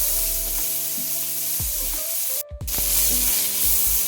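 Ginger garlic paste is stir-fried with capsicum and onion in a pan for chilli fish, a steady loud sizzle under bright hiss, broken briefly by a short gap and occasional stirring scrapes, with no talk.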